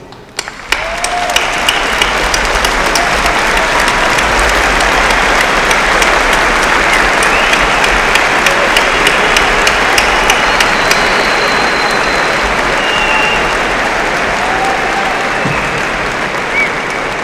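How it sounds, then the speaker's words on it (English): A large commencement crowd at a Penn State College of Engineering graduation gives a standing ovation, a dense, continuous roar of clapping that holds steady and loud throughout. "Join me in a standing ovation and a round of applause for them."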